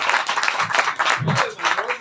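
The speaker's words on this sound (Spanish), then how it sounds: "El aplauso, el aplauso más fuerte." A birthday party audience for an adult comedy show claps under a host's voice, a steady patter of applause mixed with talk and shouts.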